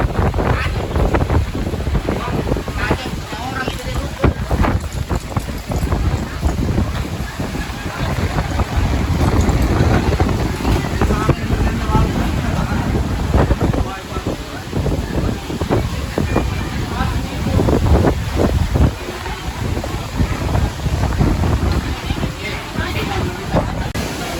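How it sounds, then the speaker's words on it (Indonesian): Strong wind roars steadily across the microphone with rushing surf beneath on a beach during a sudden rainstorm, buffeting gusts throughout and voices faintly mixed in. "Kencang angin."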